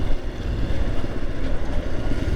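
A 2022 Royal Enfield Himalayan Scram 411 motorcycle engine lugs at low revs while riding, a steady low rumble heavily mixed with rushing wind noise throughout.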